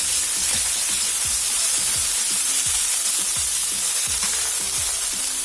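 Ground chili, garlic and ginger pastes fry in hot oil in a pan with a steady loud sizzle, while a spoon stirs through them with repeated soft scrapes.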